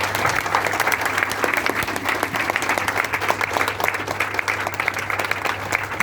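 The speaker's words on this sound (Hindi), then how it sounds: "जरा जोरदार तालियां बजाएंगे।" Sustained, dense applause from an audience at a Hindi poetry gathering, steady and fairly loud throughout without a break, with a low constant hum underneath.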